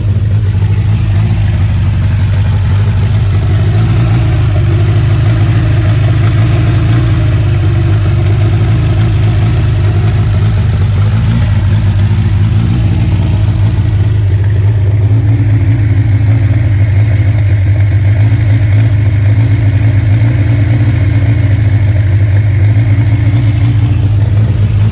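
A 1959 Reliant Regal's small engine idles steadily and loudly close by, a constant low mechanical hum with a faint rise in pitch partway through, and no voices over it.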